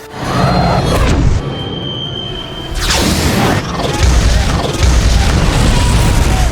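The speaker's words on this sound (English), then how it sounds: "He leaps and tackles Kerrigan, who in panic, pulls the trigger before Johnny can react" Within a film scene of struggle and panic, a gun goes off with a loud booming report, amid whooshes, mechanical clatter and crashing impacts in a busy cinematic mix.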